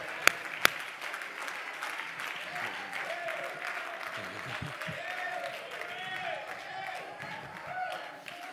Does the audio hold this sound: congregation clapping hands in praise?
yes